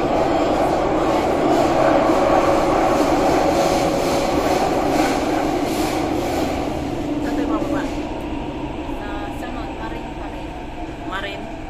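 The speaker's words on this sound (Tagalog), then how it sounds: "Kami sa loob ng MRT." Steady rumble and hiss of a moving MRT metro train from inside the carriage, with people talking throughout and the noise easing slightly toward the end.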